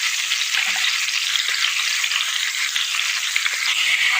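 Garlic and onion frying in hot oil until browned, a steady, loud, close sizzle that hisses without pause, with faint scraping stirs now and then.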